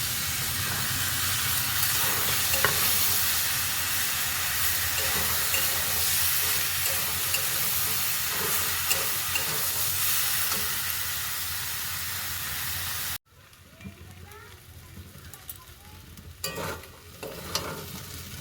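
Ground chili powder and garam masala frying and being stirred in a pan for a potol and peanut curry, a loud continuous sizzle with scraping stir strokes that suddenly drops to a quieter bubbling simmer near the end.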